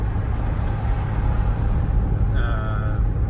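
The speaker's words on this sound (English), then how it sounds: "most of these cars that you see are made in Iran" Iranian-made cars and heavier vehicles move through traffic on a Tehran street, a close, continuous low engine rumble with a brief higher whine or brake squeal near the end.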